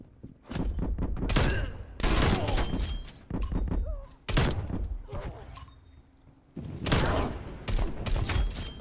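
Magnum pistol fire in a shooter video game, several sharp loud shots in quick bursts separated by short pauses, with in-game impacts and no talk over them.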